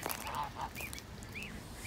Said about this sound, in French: Donc voilà dans le parc des oies.